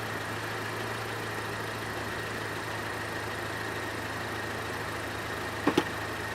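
A 2019 Honda Civic with a CVT transmission idles steadily while the selector moves through the gears, a low, even engine hum with a couple of faint clicks near the end.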